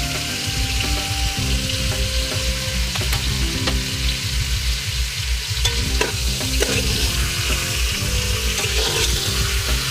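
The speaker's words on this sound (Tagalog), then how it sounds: "Igigisa ko ito guys ng maigi." Pork cubes, seasoned with salt and pepper, sizzle loudly in a pan as they are sautéed, with steady frying crackle and occasional scraping stirs throughout.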